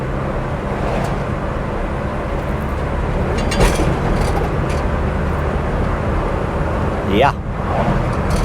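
A 1981 Ford Courier mini truck drives at full throttle, its engine making a steady, loud, low drone from inside the cab. A voice speaks briefly over it, and a short whine rises near the end.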